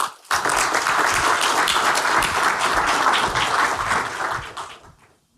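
An audience breaks into steady, dense applause welcoming Fei-Fei Li onstage, holding strong for several seconds before tapering off to quiet.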